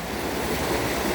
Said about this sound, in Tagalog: Lumabas yung tubig dito guys.